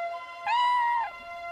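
A cartoon cat from the animated series Dora & Friends gives a single clear, drawn-out meow, close and prominent against a quiet background.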